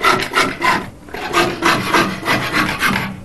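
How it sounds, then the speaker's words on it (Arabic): A hand-held fret saw cuts through a sheet of silver in a jewelry workshop, giving loud, close, rhythmic rasping strokes, about eight back-and-forth pulls in quick succession with no talking. "ده المنشار. منشار اركيت."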